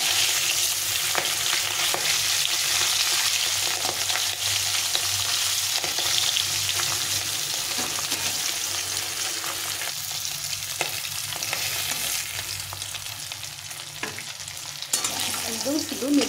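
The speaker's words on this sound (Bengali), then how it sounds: "তো মাছগুলো একটু হালকা করে ভেজে নেব। একটু নাড়াচাড়া করে উঠে নেব।" Hilsa fish pieces frying lightly in a pan, a dense continuous sizzle close by with intermittent scraping from stirring that grows busier toward the end.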